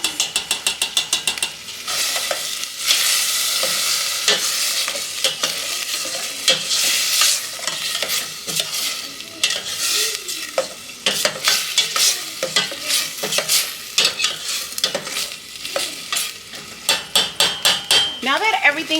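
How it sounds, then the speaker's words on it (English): Sausage and vegetables sauté in a pan for rice with sausages, a continuous loud sizzle broken by frequent scraping and stirring clatter of a utensil against the pan, with no talk. "now that this has been sauteing for about 2 minutes"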